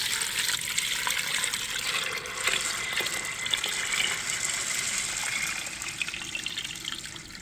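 Water pours into an Instant Pot holding beans, a steady close gushing stream that runs unbroken and fairly loud throughout, with no voices.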